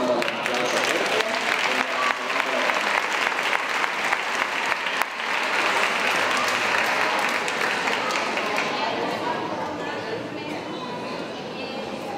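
Loud, sustained applause from an audience after young children aged about three sing a Christmas carol at a school event, steady clapping filling the whole stretch with some crowd noise mixed in.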